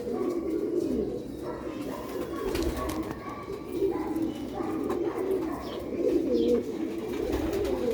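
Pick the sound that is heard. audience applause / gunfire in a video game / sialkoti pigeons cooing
sialkoti pigeons cooing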